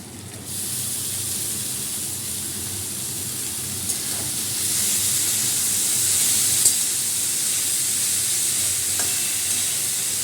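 Boiled bharali fish with chickpeas being stirred in a frying pan, giving a steady close sizzle and frying hiss with soft scraping from the stirring, growing slightly louder partway through.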